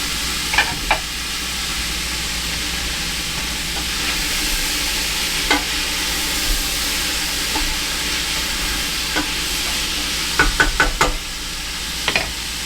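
About a pound of wild mushrooms sautéing in a pot for rabbit stew give a loud, constant close-up sizzle, with a few sharp clicks and knocks of a utensil against the pot.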